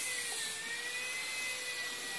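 A drill fitted with a concrete masonry bit bores into metal, giving a faint, steady high-pitched whine with a thin grinding edge that runs unbroken for about two seconds.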